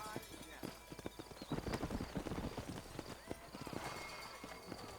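Rapid clip-clop of horse hooves galloping in the video game Red Dead Redemption, fairly faint and continuous, with a brief whinny and voices talking over it.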